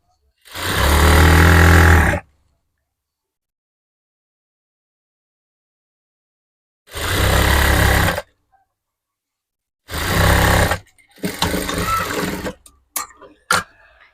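A sewing machine stitches a top seam on a garment in three close, loud bursts of rapid mechanical whirring separated by silence, with the last run stuttering into short stops and starts.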